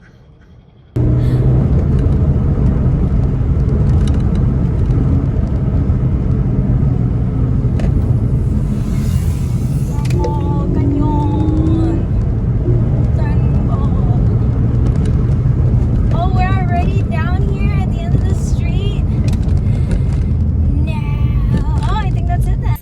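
Steady loud engine and road rumble from a sports car dressed up in a Shego costume cruising along, continuous throughout with a person talking over it.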